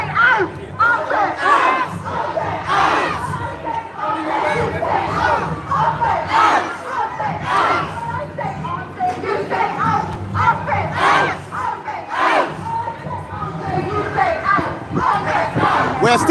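A protest crowd in Liverpool for the Yoruba Nation, against the arms trade, shouting loud chanted responses in repeated rhythmic bursts with short gaps between them.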